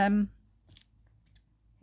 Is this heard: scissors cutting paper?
yes